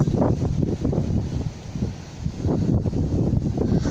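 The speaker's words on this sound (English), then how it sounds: "Wow, this wind is ferocious." Strong, ferocious wind blowing outdoors, roaring and buffeting the microphone in loud, continuous gusts with no voice.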